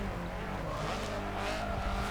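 Race cars in Forza 7 lining up down the main straight make a low, continuous engine drone with tire noise. It is fairly faint and steady, with no talk.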